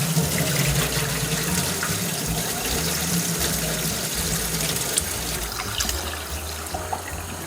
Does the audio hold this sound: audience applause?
no